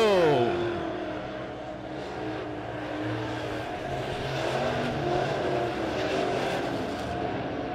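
A dirt track race car roars out of turn four at Springfield Raceway, its engine loud and sustained, with rising and shifting pitch as it accelerates, mixed with other cars and a faint public-address voice.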